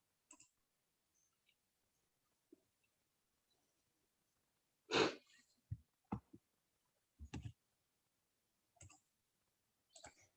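A computer mouse gives a handful of faint, isolated clicks, spaced irregularly across a near-silent stretch.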